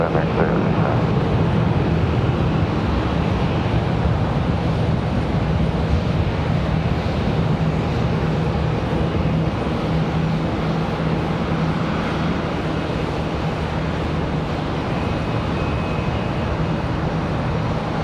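An Airbus airliner on landing approach at Charlotte Douglas airport gives a steady, broadband jet roar with a low drone, loud and constant throughout with no pauses.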